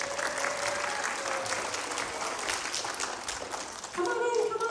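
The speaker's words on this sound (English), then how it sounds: "Everyone give him a round of applause." A crowd at an academy orientation gives a sustained round of applause, thick overlapping clapping with some cheering voices, before a voice begins speaking as it tapers off.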